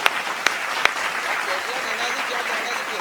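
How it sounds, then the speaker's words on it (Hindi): At a kavi sammelan poetry recital, an audience gives a brief burst of clapping, a few sharp claps at the start, then a murmuring, rustling crowd bed that lingers after the claps fade. "इच्छा हो तो तालियां बजा दीजिए।"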